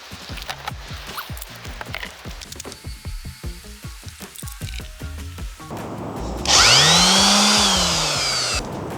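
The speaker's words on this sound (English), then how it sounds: "Let's get sanding." Handling and scraping noises give way to a powered sander on wood, whining up to a loud, steady buzz that continues to the end.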